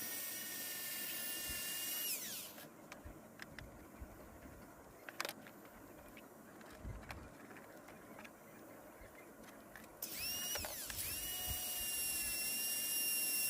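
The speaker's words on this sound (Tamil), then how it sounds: "சைடு எல்லாமே வந்து நம்ம வந்து எல்லாமே கிரைண்டிங் பண்ணணும்." A power tool grinds a cricket bat during refurbishing, a high whining spin that runs loud for a couple of seconds, drops to a low rumble with scattered knocks, then whines up again near the end.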